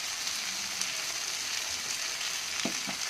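Sago pilaf with nuts, raisins and chopped green chillies fries in a pan, a soft, even sizzle with a couple of light scraping stirs near the end, no voices.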